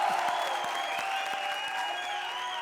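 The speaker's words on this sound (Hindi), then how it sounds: "जोरदार तालियां।" A studio audience applauds on a comedy show, a dense steady wash of clapping with sustained music tones running through it.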